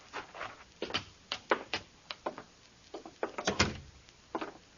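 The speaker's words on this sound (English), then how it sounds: "All right, Bob, open the door for him." Door opening in a radio drama set at a shack outside Northfield, Minnesota: a series of sharp wooden knocks and clicks, latch rattle and creaks, close and moderately loud, heard alone with no talking.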